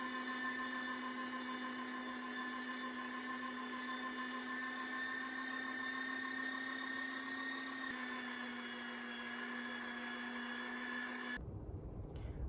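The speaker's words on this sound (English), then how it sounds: "Let's go to the grinder." An Aobosi countertop electric meat grinder grinding raw meat, a steady droning motor hum with a high whine that runs unbroken and shifts slightly in pitch partway through, then stops abruptly near the end.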